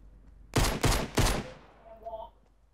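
Three quick, loud gunshots ring out in the Fortnite video game about half a second apart, each one booming and then trailing off, followed by faint game sounds.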